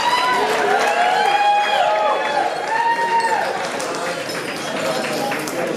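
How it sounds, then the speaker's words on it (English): Wedding reception guests cheer and call out over a crowd murmur, with scattered clapping, in a lively indoor room. "please, one more round of applause for Tyler"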